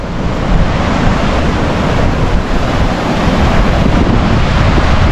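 A river rushes loudly past a riverside camp in Sonamarg, a dense, constant roar of water that fills the whole stretch with no pauses and no voices.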